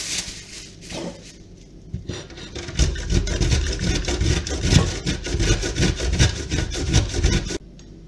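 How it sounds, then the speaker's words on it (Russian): Frozen shortcrust pastry dough rubbed against a coarse grater for a crumbly jam pie topping, a steady rapid scraping rasp with rhythmic strokes, close and fairly loud, no talking. "Этот кусочек нам нужно натереть на крупной терке."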